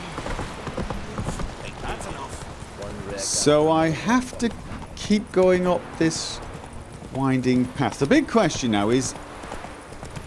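A horse's hooves clip-clop along a winding path in The Witcher 3 video game, in a steady rhythm underneath someone talking over most of the stretch.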